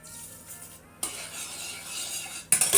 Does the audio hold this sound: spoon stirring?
yes